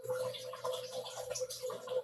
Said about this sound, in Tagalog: sa filter yan ng isda ko, guys. Sa filter ng isda yun.